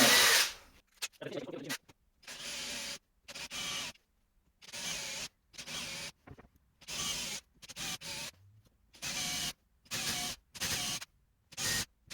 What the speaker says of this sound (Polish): Teraz wywiercę 225 otworów wiertłem o średnicy 7 mm.